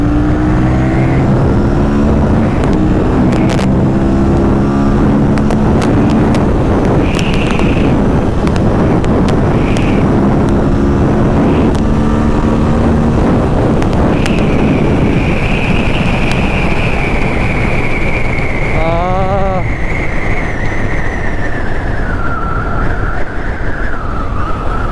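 An Aprilia RS 457 motorcycle pulls hard under acceleration, its engine note climbing in pitch through the gears with heavy wind rush over the microphone, loud and continuous from the riding position.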